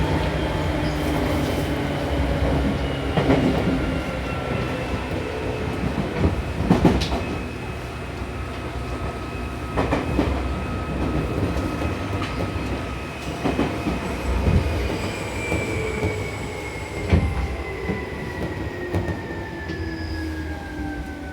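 Seibu New 2000 series train running on an express between Hon-Kawagoe and Seibu-Shinjuku, heard from inside: steady rumble of wheels and motors with a rising-and-falling traction whine, brief clicks over rail joints and occasional squeals.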